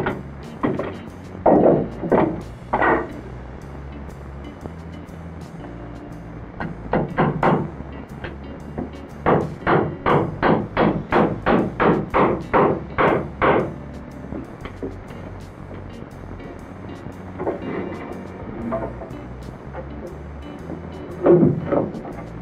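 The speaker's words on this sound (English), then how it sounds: "Necessary to toenail the joist into the beam" Hammer blows toenail wooden joists into a beam in a basement shelter build, ringing out in irregular bursts with a rapid run of a dozen even strikes in the middle, loud and close.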